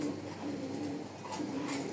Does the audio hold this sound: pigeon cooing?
yes